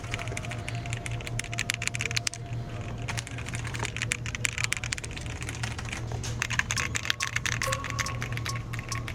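Fingers tap rapidly on a Ducky mechanical computer keyboard, dense clicking keystrokes in a continuous close run over a low steady hum, with no talk.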